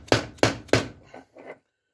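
A small wheel bearing for a garden tractor, ATV or golf cart being hammered into its hub. Three sharp, evenly spaced strikes ring out up close, followed by a couple of softer knocks.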